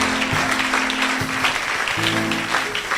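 A church congregation applauds and acclaims Jesus during a sermon on the power of a kingdom, a dense burst of clapping and cheering with sustained tones running beneath.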